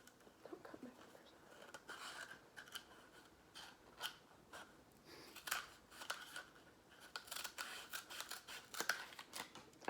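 Scissors cut through paper in a classroom activity, giving repeated crisp, close snips in uneven bursts while people talk quietly nearby.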